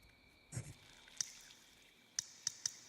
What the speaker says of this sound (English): Why do I hear the sound of dripping water?